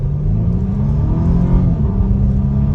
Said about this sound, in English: try an acceleration off the line. Half throttle.